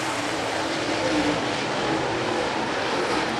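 Late model race cars roar around a dirt track in a steady, dense wash of engine noise, several cars blending together at a distance with no break in the drone.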